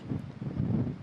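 Soft, steady outdoor wind rushes and buffets against the microphone in a continuous low rumble, with no voices.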